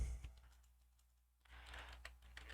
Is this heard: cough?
no